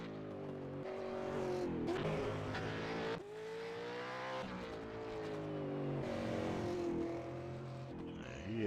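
A simulated supercar engine on a warm-up lap around the Long Beach street circuit in iRacing, revving up through gears in rising whines with brief drops at shifts, loud and close with no voices.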